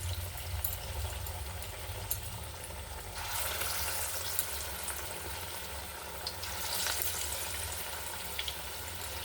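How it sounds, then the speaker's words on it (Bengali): Chana dal fritters dropped into hot oil on a gas stove, a steady bubbling sizzle that swells louder as each new batch goes in, close and without voices. "এবার দেখুন এই ডালের বড়াটা আস্তে আস্তে করে দিয়ে দেবো।"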